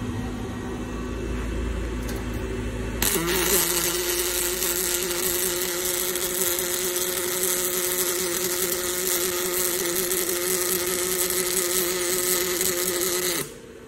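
A Fanuc welding robot starts its weld with a sudden jump into a steady, harsh crackling hiss and hum that holds for about ten seconds before cutting off sharply.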